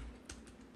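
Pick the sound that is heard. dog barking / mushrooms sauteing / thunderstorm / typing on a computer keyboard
typing on a computer keyboard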